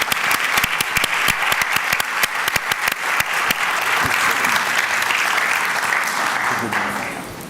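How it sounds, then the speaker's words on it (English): A conference audience at an investment forum breaks into loud, sustained applause, dense rapid clapping that holds steady for several seconds before starting to thin at the end. "a big round of applause"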